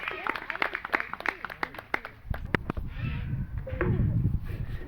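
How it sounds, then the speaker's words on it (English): An audience claps in a burst of applause during an owl and raptor centre show; quick, sharp claps come early, then fade into a softer crowd murmur with a few bird-like calls. "let's give Jerry here a nice little round of applause"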